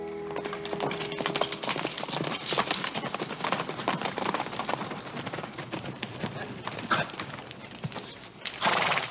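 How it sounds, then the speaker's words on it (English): Hooves clip-clop along at a steady trot amid a busy, noisy outdoor scene, with people talking over them and a horse whinnying briefly. "Charlie, take the horses."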